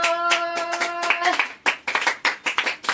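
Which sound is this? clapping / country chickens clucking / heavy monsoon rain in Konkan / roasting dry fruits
clapping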